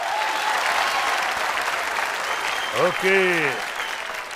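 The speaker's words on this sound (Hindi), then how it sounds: "एक जोरदार तालियां इनका खातिर" Studio audience applause on a Bhojpuri quiz game show, a steady dense clapping wash throughout, with a voice briefly speaking over it near the end.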